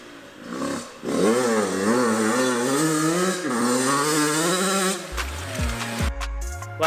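A Yamaha YZ85 dirt bike, rebuilt after a $400 purchase, is ridden with its two-stroke engine revving up and down in waves as it shifts through the gears, loud and close, ending with choppy revs and knocks.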